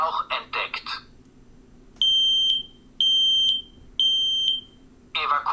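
An X-Sense XP0A-SR combined smoke and carbon monoxide alarm sounds three loud, even siren beeps in a row, each about half a second long, with a spoken voice warning before and after them.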